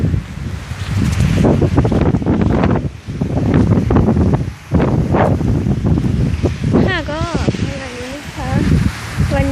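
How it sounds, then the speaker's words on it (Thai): Strong wind buffets the microphone at the seaside in Prachuap Khiri Khan, Thailand, a steady rumbling roar lasting throughout, with someone talking over it near the end. "ลมแรงนะไม่รู้จะได้ยินเสียงหรือเปล่าลมแรงลมแรง"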